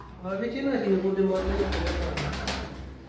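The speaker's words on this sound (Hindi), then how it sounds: "उड़ने वाले कबूतर हैं जी" Flying pigeons coo in low, rolling murmurs on the rooftop loft of a pigeon keeper in Amra Kalan, with someone talking over them and shuffling noises toward the end.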